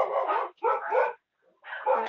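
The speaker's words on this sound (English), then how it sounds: "Dog, shut it!" A dog gives three loud, close barks in quick succession, with short pauses between them and no voices around.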